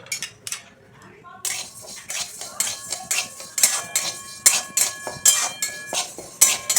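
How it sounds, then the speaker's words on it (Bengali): Mung dal dry-roasting in a wok: a spatula clinks and scrapes against the metal in a quick, rhythmic run of close, sharp strokes after a short quieter start. "মুগ ডালটা আমি শুকনো কড়াইয়ে ভেজে নেব।"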